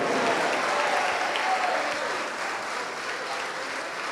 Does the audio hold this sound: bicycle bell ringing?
no